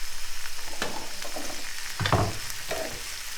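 Andouille sausage frying in a pan, a steady hiss of sizzle with occasional scraping and clatter of tongs flipping, the loudest clank near the middle, close and alone without talk.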